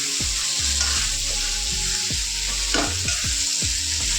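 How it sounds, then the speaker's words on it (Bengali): Chicken legs stir-fried in a thick spice paste for murgir leg kosa: a steady sizzle with repeated scraping strokes of a spatula against the pan, close and continuous, with no talking. "মশলাটাকে একটু কষিয়ে নিয়ে তারপর কিন্তু ঠ্যাংগুলোকে দিতে হবে।"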